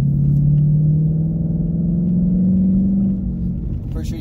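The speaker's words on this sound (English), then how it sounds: "Pretty sure you guys can hear the engine." A muscle car's engine, running on Bridgestone Blizzak WS80 winter tires on icy slush, gives a loud, close low drone that rises slightly in pitch as the car accelerates, then eases off near the end.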